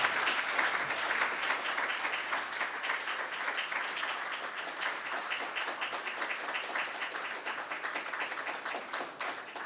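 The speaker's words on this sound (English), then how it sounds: "let's give them a round of applause." Steady audience applause at a casino ballot measure debate greets the debaters, dense sustained clapping from a crowd that holds fairly even for the whole stretch.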